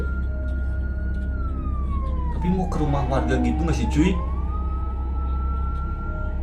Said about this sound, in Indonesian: Suara ambulan. Mungkin ini mobil ambulan mau.